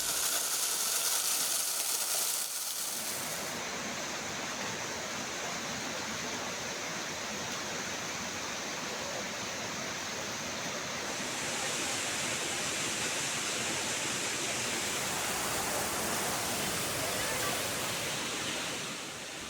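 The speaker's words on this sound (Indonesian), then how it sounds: "menikmati segarnya air terjun Baturiti yang masih sangat alami" Baturiti waterfall in Parigi, Indonesia, a natural cascade heard as a broad, constant rushing roar of falling water, steady and close throughout with no voices.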